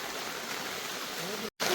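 Heavy rain in Jaffna, driven by swirling wind, sends rainwater rushing along in a steady, fairly faint wash before a brief cutout and a short return.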